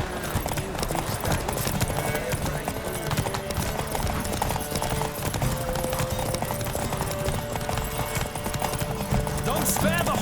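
Horse hooves galloping at speed in a race in The Witcher 3, a fast, continuous clip-clop rhythm mixed into dense game sound and music, loud and steady throughout, with voices calling out over it.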